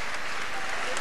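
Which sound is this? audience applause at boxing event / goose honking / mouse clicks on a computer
audience applause at boxing event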